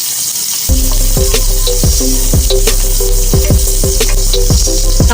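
Garlic sizzles as it sautés in a hot pan for a Filipino vegetable dish, a loud steady fry erupting suddenly after a quiet start, with rhythmic scraping strokes of a utensil repeating throughout.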